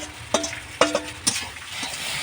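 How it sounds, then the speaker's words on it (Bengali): Pasta and potatoes are stirred together in a frying pan: three sharp scraping strokes from the spoon over a faint low sizzle, close by, with no talking. "এবার এই আলুগুলো ওর সাথে মিশিয়ে দেবো দিয়ে একসাথে ভেজে নেবো"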